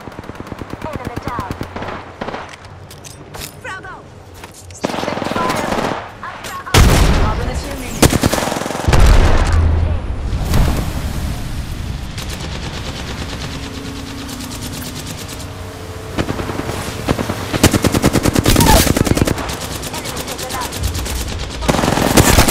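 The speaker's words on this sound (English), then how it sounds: "They're shooting at me." Gunfire in the video game Apex Legends comes as rapid automatic bursts and single shots, loud and close, with layered exchanges over about twenty seconds and in-game voice lines mixed in.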